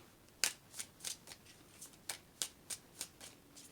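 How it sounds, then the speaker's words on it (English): Tarot cards are shuffled by hand in a quiet room, about a dozen soft crisp riffling bursts at an irregular pace, close and faint, with no talking. "I don't like shuffling these cards too much because they pop out"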